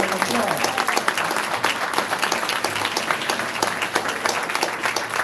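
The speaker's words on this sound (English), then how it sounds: "Let's give them a big round of applause." An audience in a live event hall gives candidates a hearty round of applause, dense steady clapping close and loud throughout, with some crowd voices mixed in.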